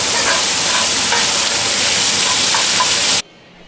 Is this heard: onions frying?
yes